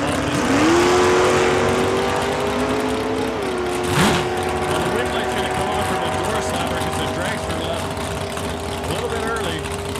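Drag race at Saskatchewan International Raceway between a door car and a dragster: engines launch and scream upward in pitch, a sharp burst around the middle, then a sustained high roar fading into distant engine noise.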